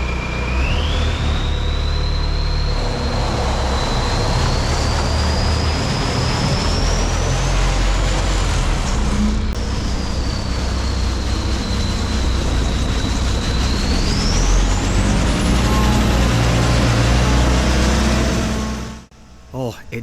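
A Volkswagen 1.9 liter ALH turbo diesel in a homemade tank runs with a steady, loud low rumble and a rising and falling turbo whine, then cuts off abruptly near the end.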